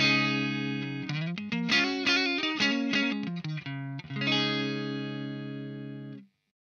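Clean electric guitar through a Marshall SV20 Plexi amp, in a comparison of Marshall Studio Series amps. Close, full-volume strummed chords and single notes ring out continuously, ending on a sustained chord that cuts off abruptly.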